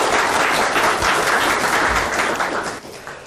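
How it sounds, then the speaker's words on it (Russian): Applause from an audience at a Russian talk on container logistics, steady dense clapping throughout, loud and close, fading slightly at the end. "Ваши аплодисменты."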